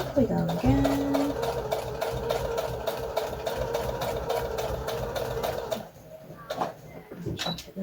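A domestic sewing machine stitches a foundation paper pieced Christmas star quilt block, its fast rhythmic needle chatter running for several seconds before stopping, with a few handling clicks afterward.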